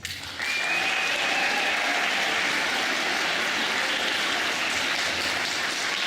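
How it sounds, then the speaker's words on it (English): An audience gives loud, dense, sustained applause for beginning orchestra students at a middle school spring band and orchestra concert, rising sharply after a brief quieter start and holding steady throughout. "Let's hear another round of applause for the fantastic beginning orchestra students."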